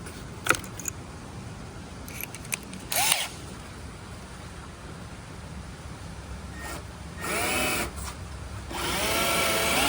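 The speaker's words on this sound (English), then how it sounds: "You can start off by using a 1/4-inch drill bit." A 1/4-inch bit drilling a pilot hole in a 2014–2018 Silverado/Sierra tow mirror: short bursts of whining drill noise start and stop, with a longer high-pitched run near the end, set over a steady background hum.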